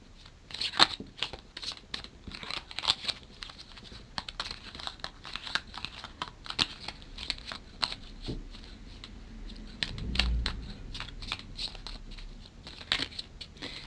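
A deck of cards being thoroughly shuffled for a tarot-style card draw, with repeated crisp riffling and rustling bursts, fairly close and steady, with a few louder handling thumps along the way.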